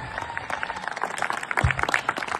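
Audience applause at the HontFest festival, a dense patter of many hands clapping at a steady lively pace, close and continuous, with scattered louder claps near the end.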